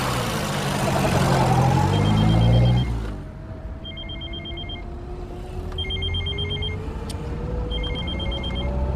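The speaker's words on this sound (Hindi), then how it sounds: "अभी इसका फोन आना था यार।" A telephone rings in repeated short bursts, roughly every two seconds, over steady traffic or engine rumble, in the comedy thriller Taxi No. 9211.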